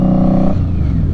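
A 2018 Indian Scout Bobber motorcycle with a Vance and Hines slash-cut exhaust gives a loud, deep rumble that holds a steady rev before dropping to a lower throb, heard up close.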